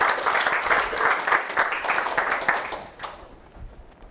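Audience applause from a live crowd at a trade-show podcast session, rhythmic clapping that fades out over the last second.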